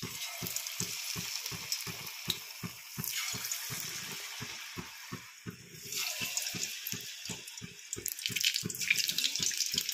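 Sweet corn fritter batter frying in hot oil, a continuous bubbling sizzle that swells and settles as portions drop in, close and fairly loud with no talking.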